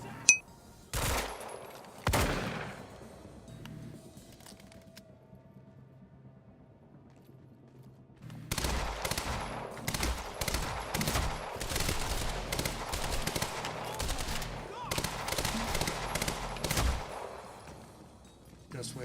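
Bursts of rapid gunfire from the video game Quantum Break, a single crack early on followed by long stretches of loud, dense automatic fire with short pauses.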